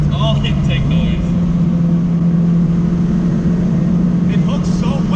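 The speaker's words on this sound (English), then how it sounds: "Dude, this thing screams. It's all intake noise." A Honda Civic EG with a K20 engine drones steadily from inside the car, its intake noise a constant hum beneath animated voices talking throughout.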